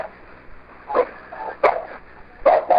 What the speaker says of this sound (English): There is also about a minute of their dog barking.